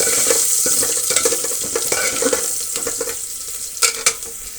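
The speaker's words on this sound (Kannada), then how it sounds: "ಸಣ್ಣದಾದಂತಹ ಈರುಳ್ಳಿ ಕಟ್ ಮಾಡಿರೋದನ್ನು ಸೇರಿಸ್ತಾ ಇದ್ದೀನಿ, ಫ್ರೈ ಆಗಲಿ." Chopped onions with a pinch of salt fry in hot oil for a sambar tempering, giving a steady bright sizzle with busy stirring scrapes and two sharper knocks near the end.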